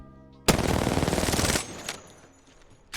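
Rapid sustained burst of R-99 submachine gun fire in Apex Legends, loud and close for about a second, then a couple of fainter trailing shots and game sounds.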